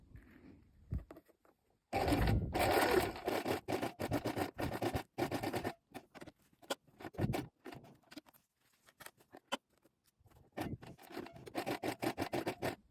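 Sewing machine topstitching a jacket with a lengthened stitch, quick rattling bursts of needle stitching in short runs separated by pauses, close and fairly quiet.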